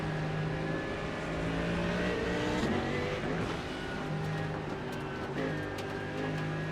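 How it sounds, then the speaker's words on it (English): GT race car engines rev and shift through gears in iRacing, rising and falling pitch with gear changes over a continuous mid-level drone, no voices. "So a lot of switching with gears and revs."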